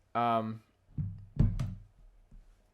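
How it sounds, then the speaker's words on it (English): A bedroom door pulled shut indoors, giving a few soft knocks and thuds in close succession, one fairly firm bang with a rattle, then fainter bumps, after a brief voice at the start. "going to go close her door"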